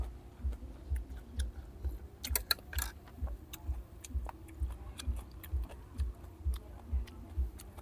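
Someone chews a papaya salad with squid, shrimp and pickled field crab close to the mic, a steady series of soft crunching bites with occasional sharper clicks and no talk.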